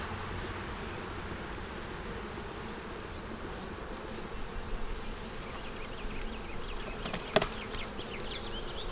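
Honey bees buzz around an opened beehive box during box reversal, a dense steady hum of many insects close by, with brief louder passes of individual bees and a sharp click near the end.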